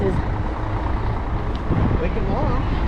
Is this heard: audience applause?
no